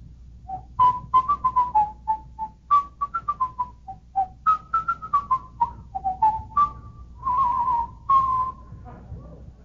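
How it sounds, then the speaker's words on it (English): A person whistles a lively tune close by, quick pitched notes in short phrases with a few held tones, no talking. "For example, whistling."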